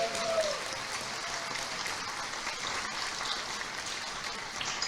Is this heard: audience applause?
yes